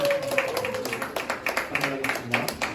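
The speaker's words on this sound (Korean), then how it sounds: "우리 희수에게도 우리 박수로" Scattered clapping from a church youth service congregation, sparse claps at an irregular, loosening rhythm, fairly close, mixed with a voice talking.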